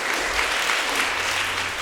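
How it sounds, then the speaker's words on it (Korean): An audience at a chamber music salon claps as baroque performers are welcomed, a short burst of dense, even applause filling the room. "박수!"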